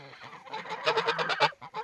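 Mammoth-breed geese honking close by in a quick, overlapping burst of calls that grows louder midway, then a last short honk after a brief gap.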